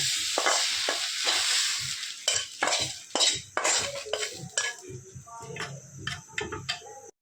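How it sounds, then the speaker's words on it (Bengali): Onion, garlic and chilli being crushed on a stone slab (pata) for a radish-greens mash: close, repeated scraping and knocking strokes in an uneven rhythm, with a thin steady whine behind and no voices. "পেঁয়াজ রসুন মরিচ এটা আমি পাটায় এখন বেটে নেব"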